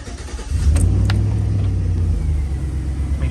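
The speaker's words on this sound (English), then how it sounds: "let's hope that this battery still has juice in it to start it up" A Chevy Express van engine catches after a brief crank once its alternator has been replaced, then settles into a loud, steady idle with a deep rumbling drone up close.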